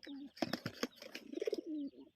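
Domestic pigeons give soft, close cooing calls at a home where young birds are about to be released in an open field. There are a few brief taps and flutters mixed in, and the sound is quiet overall.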